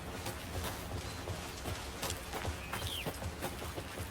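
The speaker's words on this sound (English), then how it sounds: "Should have brought an umbrella. I like the rain." Rain falls in the video game Alan Wake 2, a steady soft patter with scattered louder drips and taps over a faint background hiss, fairly quiet throughout.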